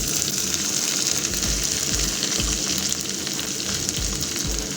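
Ginger and garlic fry in a hot pan for an egg curry, a steady loud sizzle running throughout with occasional low bumps and knocks from the pan, no voices.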